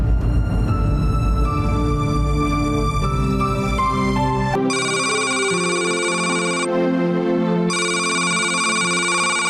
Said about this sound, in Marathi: अरे किती वेळा फोन वाजतोय, घ्यायचा नाही का साहेब?